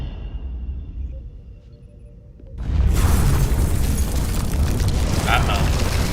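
A starship weapons blast and explosion in the Star Trek Resurgence video game erupts suddenly after a quiet stretch, then a loud, roaring rumble sustains to the end.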